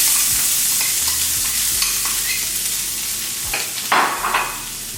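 Onion frying in olive oil in a pan while shrimp a la diabla is prepared, a steady close sizzle with occasional stirring scrapes and no talk.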